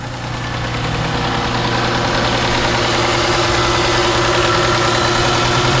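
A car engine with a clogged fuel injector idles steadily and loudly up close, a continuous even drone with a faint ticking texture throughout.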